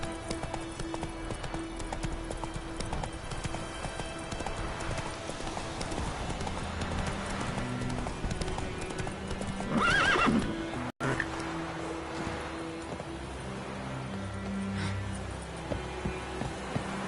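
Video game horse galloping with steady rhythmic hoofbeats over background music, plus a loud whinny midway, fairly close and continuous.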